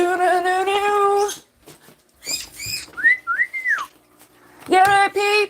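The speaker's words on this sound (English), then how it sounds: "You hear my bird?" A pet bird whistles a bright, looping tune with rising and falling chirps, loud and close, in phrases broken by short pauses, with no talk over it.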